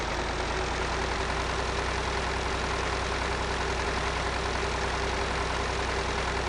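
A 40 horsepower Ferguson tractor engine runs in a farming video game, a steady low idling drone that holds constant and loud throughout with no change in pace.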